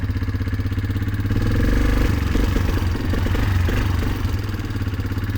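An ATV engine running steadily with diff lock engaged, a loud, close, continuous mid-pitched motor drone with rattly clatter that swells slightly partway through, with no talking.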